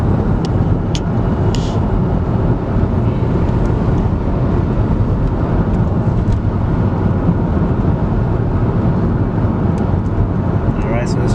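An Acura TSX fitted with new suspension takes a 30 mph corner at over 40 mph, giving a loud, steady rumble of road and wind noise inside the car, with a few faint clicks and no clear talking.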